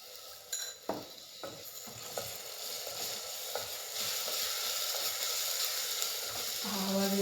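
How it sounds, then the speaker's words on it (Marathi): Turmeric, garam masala and ginger-garlic paste sizzle steadily in a hot pan, a bright hiss that grows louder throughout, punctuated early on by a few sharp stirring clicks. "आवाज येत आहे हळदीचा."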